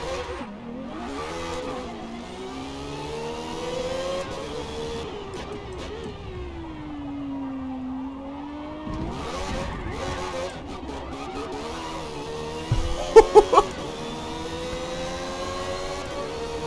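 Race car in Forza Motorsport heard from the cockpit, engine revving up and down through gear changes with a long sustained drone, then brief sharp bursts near the end.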